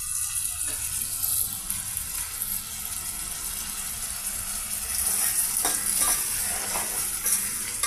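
Boiled drumstick and potato pieces are stirred into chili paste frying in a pan, a constant loud sizzle with scraping stirs that swells louder in the second half, no talk.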